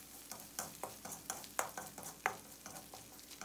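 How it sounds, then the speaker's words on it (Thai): A tablespoon of Thai three-companion paste is stir-fried in a little leftover oil for an old-style rice soup, with quick, close scraping strokes and light clinks over a soft, steady sizzle. "ผัด3เกลือของเราให้แตกกลิ่นหอมเลยครับ"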